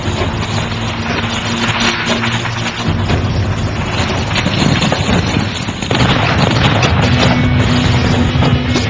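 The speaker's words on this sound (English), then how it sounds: "The irreversible thermite reaction begins." A thermite reaction burns through a car roof, with petrol nearby, making a loud, continuous crackling hiss and roar that swells and intensifies partway through.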